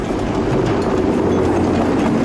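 A train rolls past close by on the tracks, a loud steady rumble with rhythmic wheel clatter and a metallic ring holding through the whole pass, with no talk over it.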